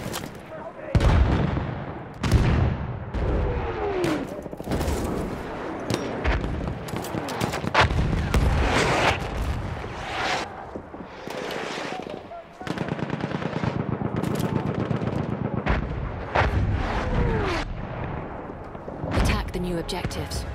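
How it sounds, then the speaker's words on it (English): Heavy gunfire and an enemy artillery barrage in a war video game: dense machine-gun bursts and booming impacts come loud and near, almost nonstop, while a voice talks over the battle. "Wait for the enemy artillery barrage to stop firing."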